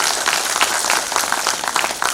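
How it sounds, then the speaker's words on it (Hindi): An audience at a direct selling conclave breaks into dense, sustained applause, a steady wash of many hands clapping with no talk over it. "तालियां हो जाए सर के लिए।"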